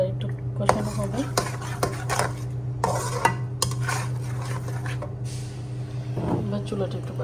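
Masala with tomato sauce being stirred and fried in a pot for a roast dish, a spoon scraping and clanking against the metal in repeated strokes over a steady sizzle, close by.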